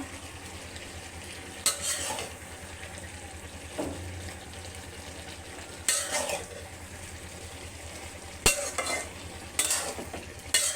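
Dried fish curry with winter vegetables is stirred in a pot, with a soft simmering sizzle underneath and a few brief scraping and clattering bursts from the spoon spaced through the clip.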